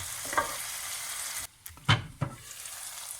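Tomato frying in a pan for breyani, a steady close sizzle interrupted by a brief pause and a couple of stirring scrapes, with no talking.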